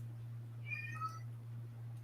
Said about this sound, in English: Oh, I hear another cat.